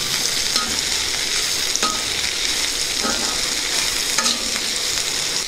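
Black pepper hits a pan of frying pudina cabbage curry, giving a steady, close sizzle with stirring scrapes and occasional soft clinks, no talking.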